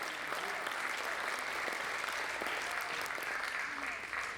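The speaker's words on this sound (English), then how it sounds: "Round of applause for Ben West." An audience at an evening gala for a children's charity applauds a speaker with a steady wash of clapping, fairly quiet and even from start to finish.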